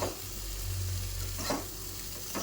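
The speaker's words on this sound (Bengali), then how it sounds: "একটু ভেজে নিই, তারপরে মশলাটা দিচ্ছি।" Mixed vegetables fry in a pan, giving a short steady sizzle with a couple of soft stirring scrapes, fairly quiet and close.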